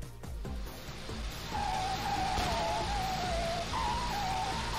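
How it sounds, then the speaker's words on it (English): Small Fiat cars drift in the racing video game Maluch Racer, with a steady engine drone under rising, wavering tire squeals that carry on through the second half, loud and continuous with no voice. "Look at that drifting."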